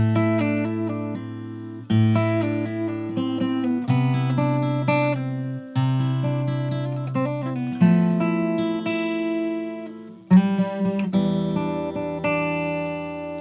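Fingerstyle acoustic guitar plays the second verse of a song, bass notes and plucked melody ringing together at a steady rhythm, close and clear with no talking.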